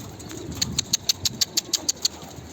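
Male pigeons in a loft call in a quick run of about ten sharp, evenly spaced pulses, close and fairly loud over a low rumbling background.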